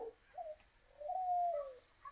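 A spotted dove gives a soft, faint coo of a few short notes, then a longer drawn-out call, heard alone in a quiet setting.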